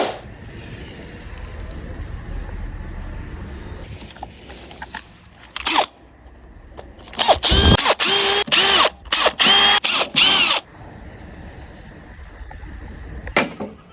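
Several loud bursts of a power drill whirring as it drills into a deck handrail at an angle, with short pauses between them, following a quieter stretch of room noise and a few clicks.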